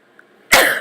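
A person sneezes once, a sudden loud, breathy burst that starts abruptly after near-silence and trails off into a sustained hiss.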